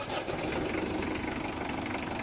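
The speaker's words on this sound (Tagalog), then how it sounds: "pa-start ko itong makina" A car engine running at a steady idle after being started, a continuous close mechanical hum with a slight knocking rattle and no voices.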